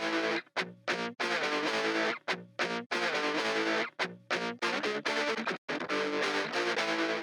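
Two layers of heavily distorted electric guitars drive a psytrance mix, loud and dense, chopped into rhythmic bursts with brief gated gaps between phrases.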